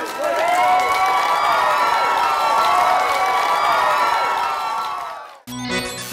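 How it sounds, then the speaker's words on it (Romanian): Studio crowd on a Romanian reality TV show breaking into sustained applause and cheering with whoops. It is loud and steady for about five seconds, then cuts off abruptly. "Aplauze, frumos!"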